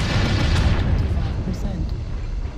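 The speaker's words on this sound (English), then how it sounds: "Ultra auto cannon." Ultra autocannon in a mech combat game set in Solaris city, a dense rapid burst of heavy booming shots rolling together, loud and continuous, then trailing off.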